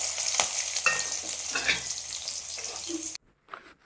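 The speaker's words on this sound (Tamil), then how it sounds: "நல்லா ஃப்ரை பண்ணிவிட்டு நல்லா ப்ரௌனிஷ் ஆகிற வரைக்கும்" Small shallots and garlic fry in hot oil with mustard seeds and spices, a close, loud, continuous sizzle with stirring scrapes that cuts off abruptly near the end.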